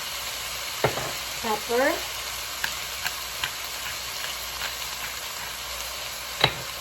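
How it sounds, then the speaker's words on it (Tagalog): Beef fries in a pan with a constant hiss, broken by light clinks and scrapes of a stirring utensil and one brief squeak, while a voice speaks a single word. "And we'll saute our beef."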